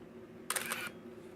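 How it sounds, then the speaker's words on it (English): A Nikon F4 film camera fires its shutter once in single-shot mode, a short, crisp mechanical snap and whir heard up close in a quiet room. "Little sound check on the shutter."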